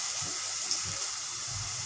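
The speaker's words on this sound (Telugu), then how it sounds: "ఇప్పుడు కొంచెం వాటర్ వేసుకుంటున్నాం" A small amount of water poured into a pan of prawn curry, a steady soft gushing pour for about two seconds, close and even with no talking.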